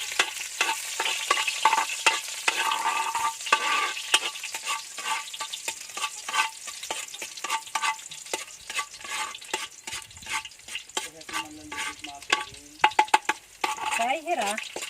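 Garlic sautés in a pan for pancit canton, a close, busy sizzle broken by rapid scraping and stirring clatter, with a voice speaking toward the end.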